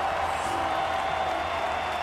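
A crowd applauds a top five finish in a marble race with steady dense clapping and cheering throughout, loud and even, with no talk over it.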